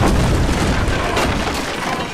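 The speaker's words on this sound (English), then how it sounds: "Shoot up that cannon." A cannon fires and explodes during a GTA 5 gunfight, producing a loud, sustained booming rumble that fills the whole moment and slowly fades near the end.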